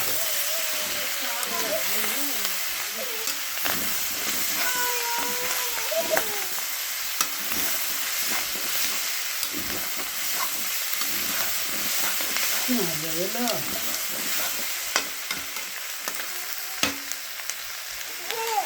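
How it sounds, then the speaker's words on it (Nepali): Broiler chicken meat crackling and sizzling as it fries in a pan, a steady hiss with scattered pops, while a person talks intermittently over it. "अब मासु पटपट पड्किन लाग्यो।"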